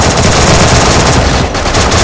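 Rapid, loud automatic gunfire from the Free Fire Max video game, a dense continuous burst of shots lasting about two seconds with no talking.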